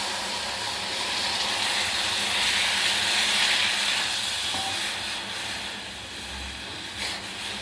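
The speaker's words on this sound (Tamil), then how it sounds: "இப்போ அதில் தேவையான அளவு ஜலம் விடுறேன்" Water poured into a hot pan of dry-roasted moong dal (split green gram) erupts in a steady, broad steaming hiss that swells and eases over several seconds, with no talking.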